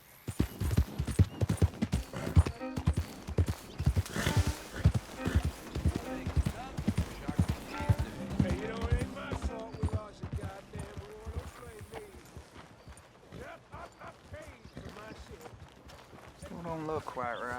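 Horse hooves in the video game Red Dead Redemption 2 pound in a steady rapid rhythm beneath frequent talk and music, ending with a brief whinny.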